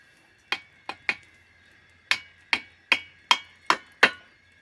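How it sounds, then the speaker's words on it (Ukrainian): Bushings hammered into a garden rake, greased to slide in: eight or nine sharp metallic strikes, close and ringing, in an uneven rhythm with a short pause after the first three, no talking. "пробуємо забивати втулки"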